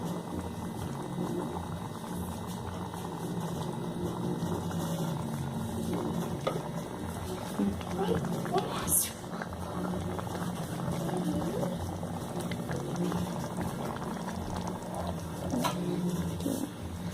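Tomato-and-pepper sauce bubbling in a cooking pot, a steady low simmer with faint pops and small gurgles running throughout, with no one talking.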